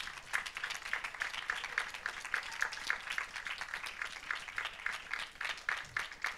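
Applause from a large youth audience at the Giffoni festival: dense, steady clapping heard from a moderate distance and fairly faint, holding evenly for several seconds with no one speaking.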